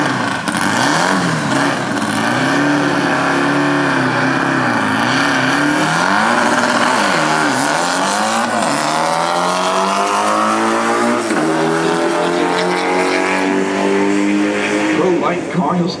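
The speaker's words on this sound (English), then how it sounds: "Pro light car, he'll stop the clocks at 720." A pro light drag racing car launches down the strip at a drag racing event, its engine roaring loud and continuous with rising pitch sweeps as it accelerates away.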